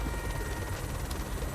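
Steady rotor thrum of a helicopter in the video game Good Kill, a dense continuous low drone holding at even loudness, close and unbroken.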